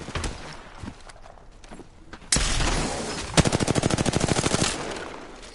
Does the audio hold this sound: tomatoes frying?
no